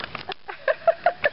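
Myna birds give a quick series of short, bright, laugh-like chirping calls, about four clear notes in a rapid rhythm, close and fairly loud.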